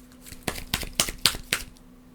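A deck of Marvel Champions cards being shuffled at a tabletop game, heard as about six quick papery bursts in a steady rhythm, close and fairly quiet, with no talking.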